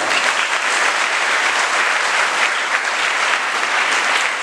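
Students in a school hall break into sustained, dense applause for a guest speaker at a Guru Purnima celebration, the clapping steady and loud throughout with no voices above it.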